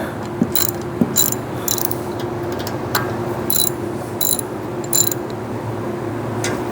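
A ratchet wrench tightens a zerk grease fitting on the caster wheel pivot of a Toro or Exmark zero-turn mower, giving short bursts of sharp clicking spread across several seconds, close and clear with no talk.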